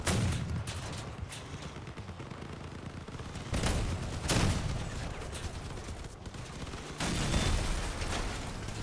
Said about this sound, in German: Nein, die schießen auf mich.